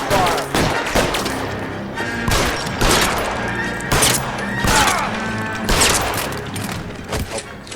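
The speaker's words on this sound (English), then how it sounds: "I'll lay down some suppression fire." Suppression gunfire in the video game L.A. Noire: a dense, continuous fusillade of loud, close shots and heavy impacts rolling without pause, with a voice talking faintly under the barrage.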